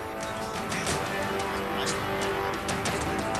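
NASCAR Craftsman Truck Series race trucks racing on track, engines droning loudly and steadily with passing whooshes and surges, under a broadcast-style mix of crowd and track noise.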